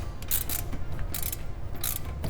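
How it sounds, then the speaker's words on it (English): A ratchet wrench undoing two 19 mm bolts near the wheel hub assembly of a Subaru BRZ / Toyota 86 during a coilover install, giving quick bursts of rasping clicks, close and fairly loud. "Next, we have these two 19 millimeter bolts to undo."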